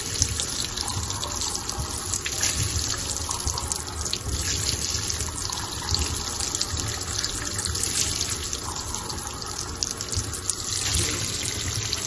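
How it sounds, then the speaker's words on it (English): Water rushing steadily into a washing machine as it fills while liquid detergent is poured in, a continuous close hiss and splash with no voices. "So I'm gonna pour this directly into it."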